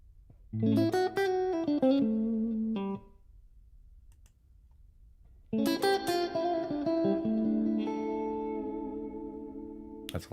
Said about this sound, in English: That's a lot of reverb.